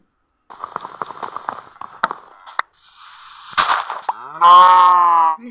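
A cow moos in the video game Minecraft, a long loud drawn-out moo near the end, preceded by quieter clicking, block-breaking and footstep-like game sounds.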